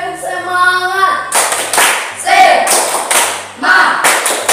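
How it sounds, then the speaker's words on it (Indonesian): A school class claps in unison in a quick rhythmic spirit-clap pattern, sharp bursts of hands in short groups, close and loud, with children chanting between the claps. "Tepuk semangat."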